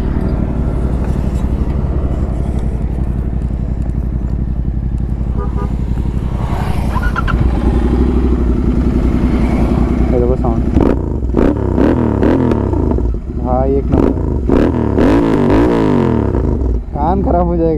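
A loud Royal Enfield GT650 motorcycle with a Red Rooster full-system exhaust and headers and a BMC air filter idles with a deep rumble, then revs sharply several times in rising and falling bursts, close by, with faint voices in the background.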